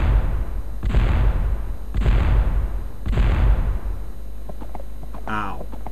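Artillery in the strategy video game Svea Rike II fires three heavy booming shots about a second apart, each with a rumbling decay, followed by small clicks and a brief game voice effect.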